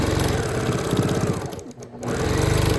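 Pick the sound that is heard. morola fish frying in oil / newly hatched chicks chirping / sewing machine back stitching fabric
sewing machine back stitching fabric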